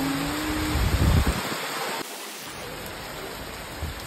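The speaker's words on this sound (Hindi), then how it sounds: "जैसा सोचा था वैसा ही हुआ, बारिश हो रही है बहुत" Heavy rain pours as a constant broad hiss on a coffee plantation near Bannerghatta Road, Bangalore, loud and unbroken, with a brief low rumble early on.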